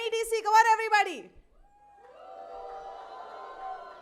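A conference audience at an MSME business event in Dadar breaks into loud cheering and shouting after a single voice calls out. The crowd noise swells and holds steady as a broad, overlapping roar.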